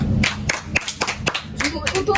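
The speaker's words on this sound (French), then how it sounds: "On peut applaudir." A small group claps for the winning team of a game challenge, a handful of loose, uneven claps close by, interrupted by voices talking over them.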